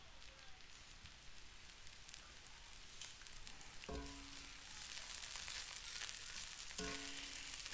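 Onions frying in a pan on an electric stove, a steady close crackling sizzle with a couple of brief clinks partway through.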